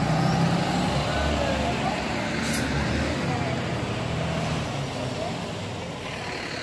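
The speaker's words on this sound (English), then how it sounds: "School bus is here." A school bus arrives outdoors in the dark early morning, its loud, steady diesel engine rumble gradually easing and fading, with a brief hiss partway through.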